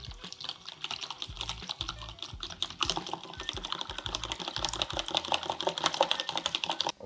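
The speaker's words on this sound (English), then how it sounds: "Gonna whisk this together." Rapid rhythmic clicking of a whisk beating wet pancake batter ingredients with coconut essence in a bowl, steady and close with no talking.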